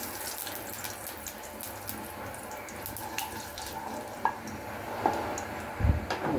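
Whole cumin seeds fry in hot oil, a fairly quiet steady sizzle with scattered crackles and a few knocks of a utensil near the end.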